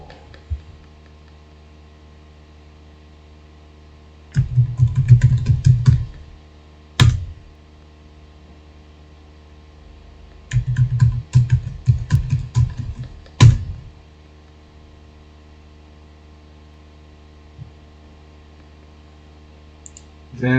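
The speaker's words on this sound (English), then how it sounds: "Then type this command." Bursts of rapid clicking from a computer keyboard as a command is typed on a Linux machine, two clusters of keystrokes a few seconds apart with a sharper key tap after each, close and fairly quiet over a low steady hum.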